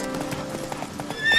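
Roach the horse in The Witcher 3 clip-clops along in brief, rhythmic hoofbeats, then lets out a short, close neigh at the end.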